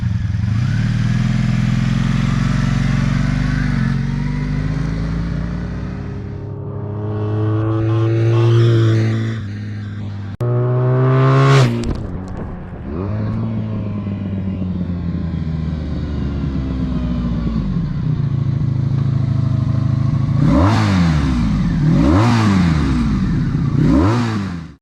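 Kawasaki Sabre motorcycle ridden and revved, the engine loud and close as it climbs through several rising revs and gear changes and then drops back, with another surge of revving near the end.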